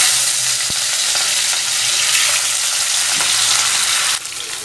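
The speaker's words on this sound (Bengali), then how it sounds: "মাছগুলো ভাজবো।" Rohu fish pieces rubbed with salt and turmeric frying in oil in a wok, with a steady, close, dense sizzle and a few soft clicks throughout, with no talking.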